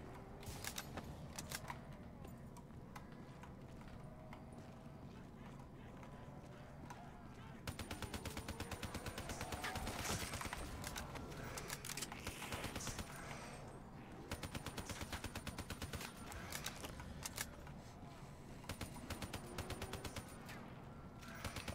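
Gunfire in Call of Duty zombies, with repeated shots and quick bursts of weapon fire running through the game's busy background sound. It sits low in level and keeps going throughout the clip.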